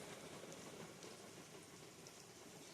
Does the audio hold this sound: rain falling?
yes